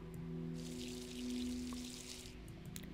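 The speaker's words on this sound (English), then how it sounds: "I'm going to water it." A plant being watered in the Wrongworld video game: a short, soft pouring splash lasting about a second and a half over a low steady hum, with no talk.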